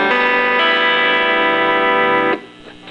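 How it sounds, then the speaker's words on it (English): An electric guitar with its sixth string dropped a full step to D rings out as an open chord through distortion and chorus effects, loud and sustained for over two seconds before being cut off, with faint string noise after. "And so what your guitar will be when played open, it'll sound like this."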